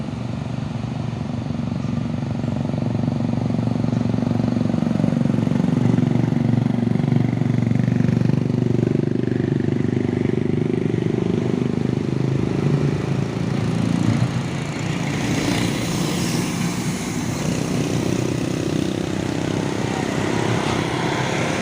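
A loud trailer truck engine runs steadily and close by after being started, its rough droning rumble shifting slightly in pitch partway through, with no talking.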